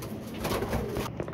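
Pigeon cooing close by over a steady rustling background, a short soft coo lasting about a second as the bird is held and checked by hand.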